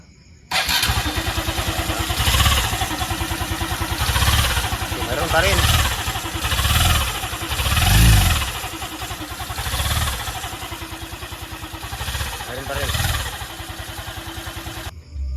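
A Honda RS 125 motorcycle engine with a backlash fault starts and runs with a rough, pulsing idle, revving up and down in waves, with a mechanical clatter throughout.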